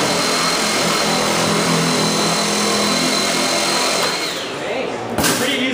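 Milwaukee M18 cordless power shears cut through clamped sheet metal with a loud, continuous motor whine and grinding bite that holds steady for several seconds before easing off at the end, with no talk.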